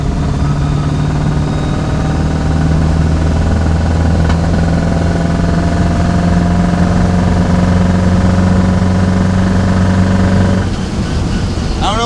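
A GMC K20 truck engine and transmission held at wide open throttle, a loud steady droning roar with a constant whine that holds for about ten seconds before easing off.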